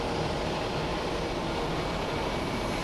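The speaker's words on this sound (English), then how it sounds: "There goes On Nippon Airways Flight 677 going to Hiroshima. The Boeing 787-8 Dreamliner, 10 years old." A 10-year-old ANA Boeing 787-8 Dreamliner departs Haneda Airport in Tokyo, heard as a steady, loud broadband jet roar that holds constant and alone.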